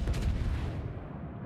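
Secondary guns of the German battleship Tirpitz firing in a World of Warships ranked battle, a dense rumble of overlapping low booms and cracks, loud and continuous, with no talk.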